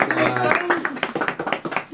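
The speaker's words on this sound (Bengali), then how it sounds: "এবার গোগল, হাততালি, হাততালি হাততালি হাততালি হাততালি" Guests clap at a 40th wedding anniversary celebration, a quick, uneven patter of nearby hands that grows sharper toward the end, with voices talking over it.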